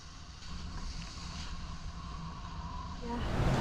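Sailboat Pelagic Australis running under full mainsail, staysail and a big genoa in rising wind, with a continuous rushing roar of wind and water that builds louder near the end.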